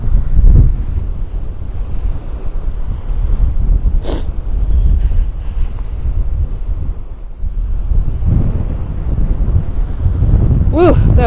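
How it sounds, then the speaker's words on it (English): Strong wind buffets the microphone on a snowy New England beach in Rhode Island after a snowstorm, a loud continuous roar with surf underneath and a brief high squeak at moments. "that wind is really hitting my face"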